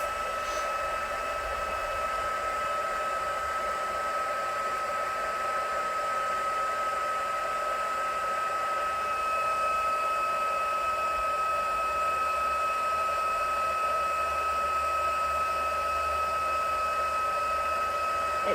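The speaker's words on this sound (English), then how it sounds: "Okay, so now I'll heat emboss this piece." A heat gun blows steadily for heat embossing a cardmaking piece at a craft table, a constant whooshing whine held for the whole stretch at moderate volume without talk.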